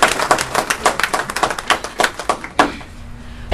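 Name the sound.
council meeting applause for Kathy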